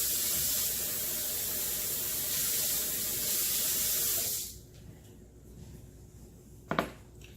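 Tap water runs steadily at close range in a kitchen while hamburger patties are being made, then cuts off abruptly, leaving a quiet room with one brief clatter.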